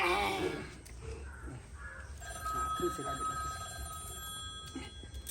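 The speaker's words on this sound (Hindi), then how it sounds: "नहीं हमारा नहीं मोबाइल बज रहा है, उधर बज रहा है" A mobile phone rings in a room, a steady electronic ringtone running through the clip under background voices and household noise.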